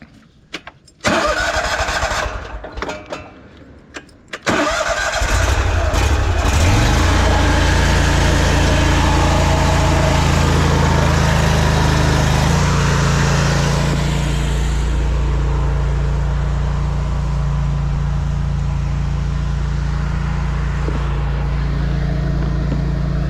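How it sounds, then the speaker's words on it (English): The engine of a drain jetter, rigged for clearing a blocked 180–200 mm pipe squashed by tree roots, cranks over after a few knocks and catches. It then settles into a loud, steady running drone that holds to the end. "jetter's connected. Let's go."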